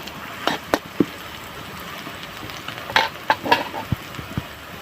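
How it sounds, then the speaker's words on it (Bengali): Bitter gourd and jackfruit seeds fry in a pan, a low steady sizzle under several sharp clicks and scrapes of stirring, close by, with no talking. "উচ্ছে আর কাঁঠাল দানা আমি এইভাবে ভেজে নিয়েছি"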